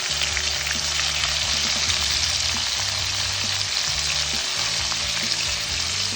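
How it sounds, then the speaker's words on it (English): Hilsa fish frying in hot oil with bay leaves and cumin seeds, a steady, dense sizzle that stays loud and close throughout, with a low bubbling crackle beneath and no voices. "Hilsa fish is very soft, so after a minute, you just need to fry it 1 minute on each side."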